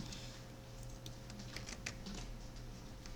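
Quiet clicks on a computer keyboard while working in CAD software, with a few scattered keystrokes and a spacebar press, faint and close over a steady electrical hum.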